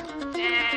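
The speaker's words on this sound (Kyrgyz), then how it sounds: "Ушум уялбаган койлор экенсиңер да." Sheep bleating close by, a single drawn-out, wavering call that swells in the middle and fills the whole short moment on its own, with no talk over it.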